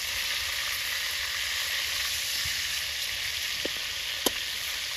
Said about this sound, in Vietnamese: Xả muối xả chiên thơm nè